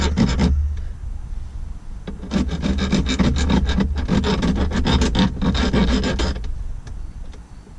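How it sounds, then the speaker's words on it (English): A hand file rasps burrs off a metal edge while fitting an aftermarket shift knob handle on a Jeep Wrangler JK. Loud, close strokes come in a quick rhythmic series, with a short first burst, then a long run of repeated scrapes. "So I'm going to grab a file, I'm going to just clean that up a little bit."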